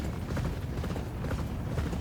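Horses gallop in the racing video game Champion Jockey: G1 Jockey & Gallop Racer. A dense, continuous clatter of hoofbeats drums close and loud in a fast, uneven rhythm.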